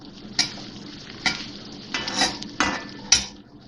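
Cumin being stirred in a hot pan, a few distinct scrapes and clinks of a spoon against metal over a faint sizzle, spaced roughly every half second to second, close and alone.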